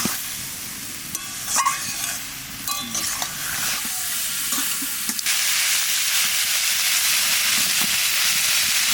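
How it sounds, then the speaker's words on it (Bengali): Shrimp fry in hot mustard oil with a steady, loud sizzle and hiss that swells into continuous crackling frying, with a few brief utensil clinks early on. "চিংড়ি একটু ভাজে নিলাম"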